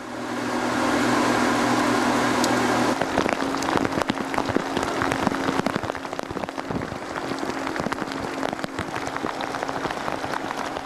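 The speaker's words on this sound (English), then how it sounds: "A further 15 minutes and a storm suddenly bursts upon us." Steady, dense storm rain pouring down and pattering on nearby surfaces by a river in outback South Australia, loud and continuous, with a low mechanical hum fading out after the first few seconds.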